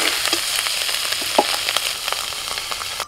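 Fish frying in oil in a pan, a steady broadband sizzle with crackling pops throughout, close and fairly loud, with no voices.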